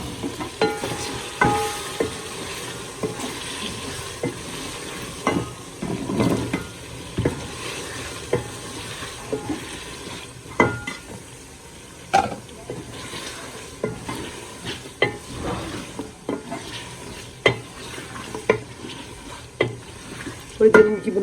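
Meat being stirred and sautéed in a pot for palak gosht, with a steady sizzle and repeated scraping stir strokes throughout, fairly close and loud, no talking.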